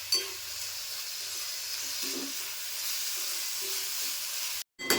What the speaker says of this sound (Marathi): आता कांदा टोमॅटो मी परतून घेतला आहे